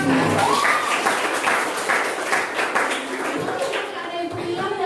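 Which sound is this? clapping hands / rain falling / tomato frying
clapping hands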